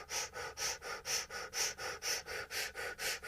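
Rapid, forceful fire-breathing exercise: about a dozen evenly paced, loud nasal breaths pump in and out close to the mic in a steady rhythm, with no talk.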